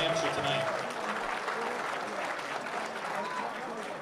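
Crowd applause at a boxing event in Windham, New Hampshire, with steady clapping and a crowd murmur throughout, fairly distant and sustained, while a voice talks over it.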